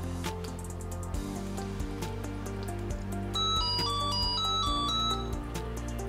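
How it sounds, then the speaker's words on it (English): A TF-mini metal detector sounds a short run of bright electronic notification beeps at different pitches after power-on, heard over steady background music. "we got a full signal and a brief sound notification on the interactive light and the audio indicator"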